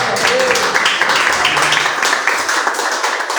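Congregation clapping in a church service, dense continuous applause close and fairly loud, with voices shouting and talking through it.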